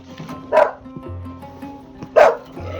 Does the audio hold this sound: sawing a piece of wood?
no